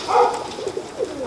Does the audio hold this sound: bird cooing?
yes